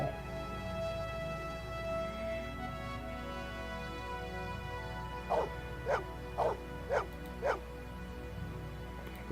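Five quick dog barks in an even rhythm near the end, following a stretch of low background hum, in the video game Blade Runner.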